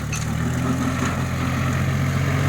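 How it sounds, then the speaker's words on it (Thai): An Iseki TL2500 tractor, 25 horsepower three-cylinder diesel, runs with a one-metre grass mower attachment, giving a close, steady low engine drone with a continuous rumble and no speech. "อ้าวเราลองตัดหญ้าเลย ตัดหญ้าเลย"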